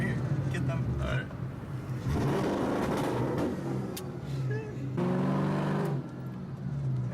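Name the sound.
straight-piped Mustang GT exhaust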